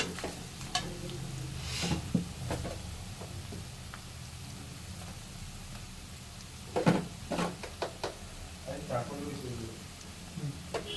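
Pork dry fry cooking Assamese style in a pan, stirred with a spatula that scrapes and clacks in irregular bursts over a low, steady sizzle, with a few louder knocks near the end.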